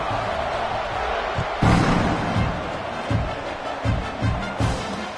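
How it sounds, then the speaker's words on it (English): A football stadium crowd at a Nebraska vs Oklahoma game rumbles and buzzes after a touchdown, a dense, loud wash of noise with scattered swells and thumps. "this crowd is buzzing after that last score"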